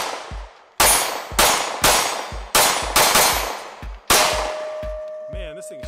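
Sig P365-series compact pistol fired at a shooting range: six sharp, loud shots with ringing tails in an uneven rhythm, followed by a brief metallic ring and faint movement sounds.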